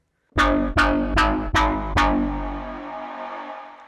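Five punchy bass house synth bass notes made in Vital hit in quick succession, gritty and distorted, the last one ringing out into a long reverberant tail.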